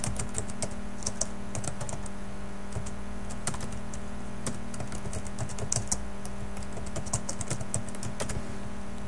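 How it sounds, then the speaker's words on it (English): Typing on a computer keyboard: a steady, fairly quiet patter of key clicks with uneven rhythm continues across the whole clip over a low background hum. "All you have to do is start typing."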